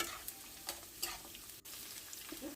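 Onion, ginger and garlic sizzle in hot oil in a pan while being stirred, a quiet close hiss broken by several sharp spatula scrapes and clinks at irregular intervals.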